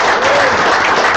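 Dense, loud applause from a team meeting audience welcoming Brent Gove, a steady wash of clapping filling the whole moment with no gaps.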